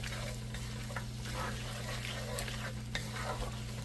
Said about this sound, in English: Give it a little stir here